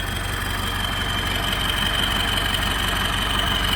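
A Ford 6640 4x4 tractor engine idling steadily nearby, a constant low rumble with a faint whine on top.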